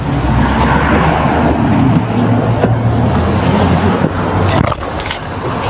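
A truck engine runs loud and steady close by at the roadside after a crash, a continuous low rumble with a brief dip near the end.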